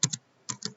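Keys tapped on a computer keyboard while a letter is written in Microsoft Word 2019, a few close, crisp clicks in two quick pairs with a short pause between.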